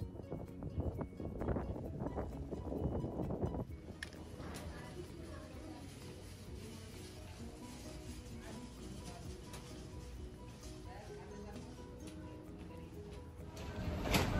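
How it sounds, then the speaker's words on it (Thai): Strong wind blows outside the Pacific Ocean Market, a constant rough rumble buffeting the microphone throughout, with a voice talking briefly at the start. "ลมพัดแรงมากข้างนอก"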